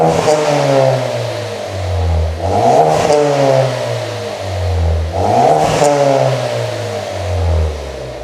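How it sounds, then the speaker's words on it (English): A Ford Focus ST engine revs up twice from idle, each time climbing sharply and then falling back, close and loud with a rough, throaty exhaust tone. "we'll get a little rev for you now"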